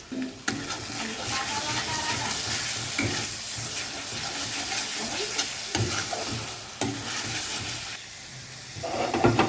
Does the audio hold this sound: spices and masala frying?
yes